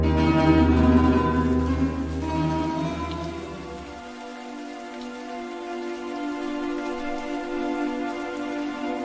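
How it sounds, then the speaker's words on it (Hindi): Rain falls in a steady, even hiss, with a loud low rumbling hum underneath for the first four seconds that then drops away, leaving the rain alone. "बारिश हो रही है।"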